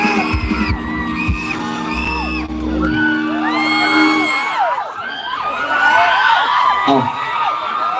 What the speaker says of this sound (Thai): ขอเสียงปรบมือดังๆให้พี่ตีเชิญน้องด้วยครับ